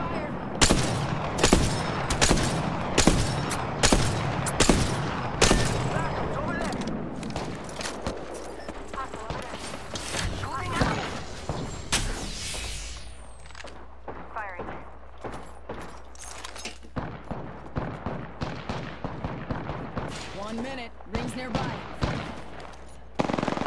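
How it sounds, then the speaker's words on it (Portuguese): Rapid bursts of automatic gunfire in Apex Legends, dense and loud at first, then thinner and more spaced out, with a few scattered single shots toward the end. "Vou atirar."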